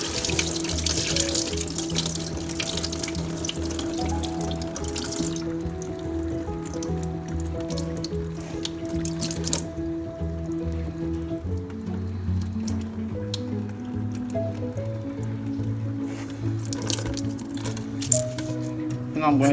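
Dirty rice-washing water is poured off rice in a kitchen, a continuous splashing trickle with drips and squishy handling, while someone talks over part of it.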